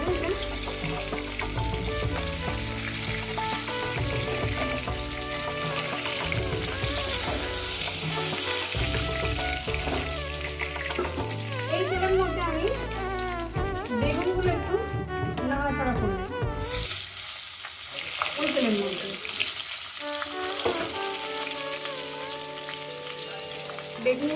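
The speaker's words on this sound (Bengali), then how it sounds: "বেগুনগুলো একটু ভেজে নেব" Eggplant pieces fry in oil in a pan with a steady, close sizzle that runs throughout, while a voice talks over the cooking.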